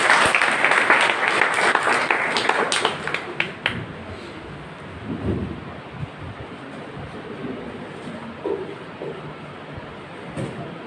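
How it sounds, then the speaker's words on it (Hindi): An audience at a government job preparation seminar gives loud applause to welcome an IAS officer, a dense burst of clapping for about four seconds that then dies away into quiet hall ambience. "एक बार जोरदार ताली से इनका स्वागत करें।"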